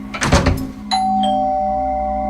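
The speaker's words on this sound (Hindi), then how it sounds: "तो डोरबेल बजी।" A two-tone electronic doorbell chimes once, ringing out clearly and sustaining after a brief burst of muffled noise at the start.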